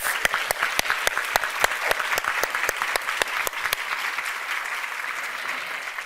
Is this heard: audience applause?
yes